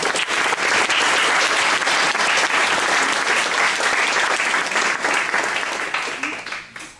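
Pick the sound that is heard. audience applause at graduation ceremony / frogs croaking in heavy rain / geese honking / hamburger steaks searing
audience applause at graduation ceremony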